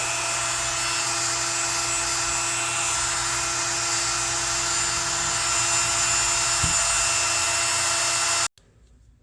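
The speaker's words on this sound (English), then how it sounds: "I did some more sanding down here in the channels" Steady high-pitched whirring of a power sander grinding rust off an old Buck knife's blade channels, running continuously at close range before cutting off abruptly near the end.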